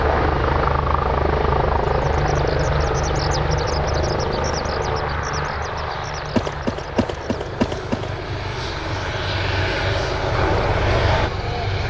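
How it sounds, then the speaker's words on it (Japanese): A Hiroshima Prefecture disaster-prevention helicopter departs from the helicopter base at Takamatsu Airport during an emergency firefighting aid drill, its loud, close rotor and turbine roar steady throughout, with a brief burst of rapid rotor thumps in the middle. "広島県防災航空隊のヘリが出発します"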